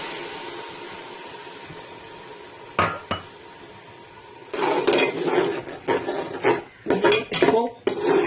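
Onion paste added to hot oil in a pot for Lahori mutton paye, with scraping and stirring and metal clinks against the pot, loud and close in uneven bursts.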